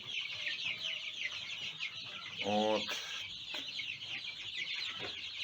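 Young chicks cluck and chirp continuously in the background, with one louder burst of clucking partway through and a brief spoken word.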